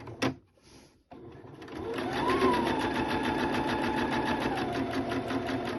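Sewing machine stitching across a fabric seam: after a brief clunk and pause it starts up and runs steadily with a fast, even mechanical chatter, close and moderately quiet.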